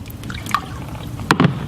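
An iPhone 6 and a Samsung S7 Edge are dropped back into water, giving a couple of brief splashing plops near the end over a quiet, faintly trickling background.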